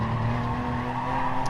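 Race car tires squeal and slide through a corner at Interlagos in a Toyota Cup race, a steady high-pitched skid over a droning engine, loud and continuous throughout.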